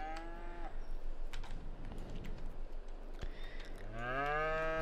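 A cow moos in Farming Simulator 22, a long clear low moo at the start and another rising moo near the end, with soft rhythmic footstep-like thuds and clicks between.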